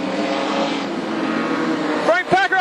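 Production sedan race cars at Carina Speedway drone steadily through the corners, then a couple of engines scream past up close with rising, falling pitch, all under fast race commentary.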